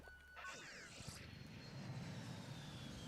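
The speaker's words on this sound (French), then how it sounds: "Un petit avion, c'est stylé." Small airplane flying past in Pokémon Scarlet, a rising and falling engine whine that sweeps by over game music and effects, with a person talking over it.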